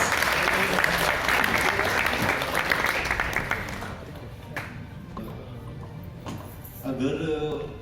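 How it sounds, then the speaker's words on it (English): A company anniversary audience breaks into strong applause that fades after about four seconds into scattered claps, then a voice starts talking over the room. "Can we welcome Nikhil sir with a huge, gigantic round of applause, please?"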